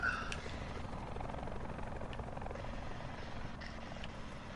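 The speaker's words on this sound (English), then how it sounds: "They don't know how to drive that helicopter." A helicopter flies in the battle royale video game Call of Duty Blackout, heard as a faint, steady rotor drone with some distant thuds and clicks.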